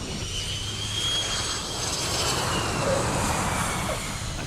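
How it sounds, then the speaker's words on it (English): A gold private jet arriving in GTA Online gives off a loud, steady roar of engine noise with a faint high whine, holding level throughout without any voices. "Anybody who flies in on a gold jet's got our attention."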